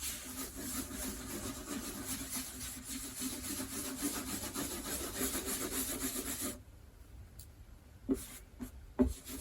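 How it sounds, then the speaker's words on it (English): Steady rasping strokes of sandpaper rubbing on a wooden acoustic guitar top, continuous for several seconds, then a quieter pause broken by a few sharp knocks. "I've just finished sanding the top"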